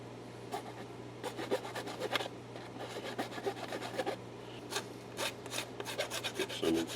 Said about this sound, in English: I'm going to get the file, see if we can work on smoothing up those edges a bit more.